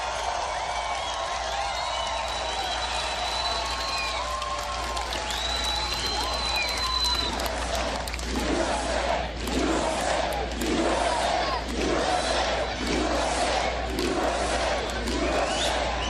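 A large crowd at a Donald Trump rally in Colorado Springs, first a sustained roar, then rhythmic waves of cheering and clapping that pulse steadily, loud and close throughout.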